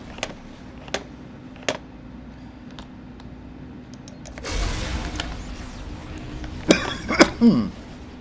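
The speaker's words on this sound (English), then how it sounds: "Jeez, you got a cough today." A few short, sharp coughs ring out early in quiet, then a burst of louder clustered sounds near the end, each cough brief and close against low background hum during an Avorion space game session.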